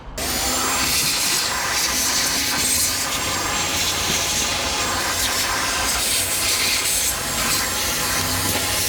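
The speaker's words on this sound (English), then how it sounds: "So we're gonna vacuum this up" A shop vacuum roars steadily at close range as it sucks dirt off the engine of a 1969 Impala, a loud continuous hiss and rush with no break and no talking.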